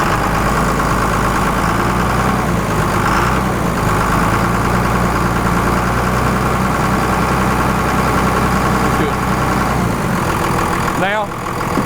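A Cummins diesel truck engine with a newly installed VP44 injection pump runs held at about 1200 RPM, a loud, close, steady droning rumble that holds even throughout before briefly dipping near the end.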